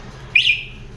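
A single short electronic chirp from a Yamaha T-Max motorcycle alarm disarming, fairly loud and close, with quiet background hum before and after.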